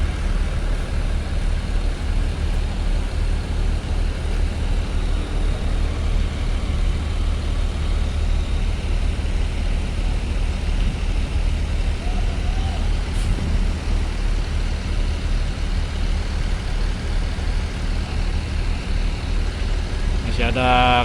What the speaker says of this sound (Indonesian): Biasa ya, malam ini mendominasi kendaraan truk ya